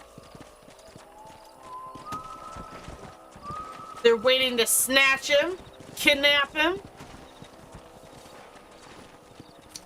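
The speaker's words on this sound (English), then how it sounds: "These horses are going to the canyon, I guess." Horses clip-clop through the canyon in the western video game Red Dead Redemption, with a steady run of hoofbeats under an ambient music bed and someone speaking in short bursts over the middle of the clip.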